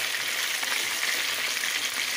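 Chicken pieces seasoned with salt, pepper and soy sauce frying in a pan: a dense, continuous hiss and crackle of sizzling oil, steady and close, with no voices.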